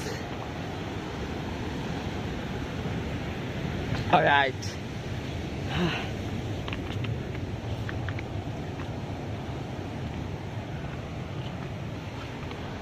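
Large ocean waves roll in against the rocky shore of an island at Baler, heard as a continuous roaring wash under heavy wind buffeting the microphone, with a short spoken word partway through.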